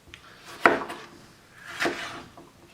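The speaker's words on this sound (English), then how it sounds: "So I'm going to go ahead and cut these, de-seed them, and then get them ready for our bowl" A knife cuts and de-seeds peppers on a cutting board in a kitchen, giving two distinct knocks of the blade about a second apart with soft scraping between them, close and fairly quiet.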